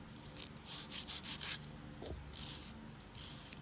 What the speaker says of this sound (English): file straight back and forth toward the tip